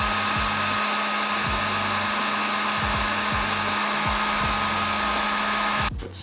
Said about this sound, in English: a heat gun should do. Start off on low. Just get this nice and warm.